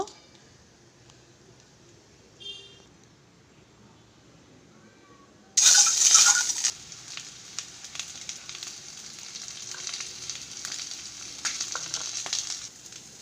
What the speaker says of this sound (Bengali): প্রথমেই আমি ডিম আর আলুগুলো ভেজে নেব কড়াইতে তেল দিয়ে দেব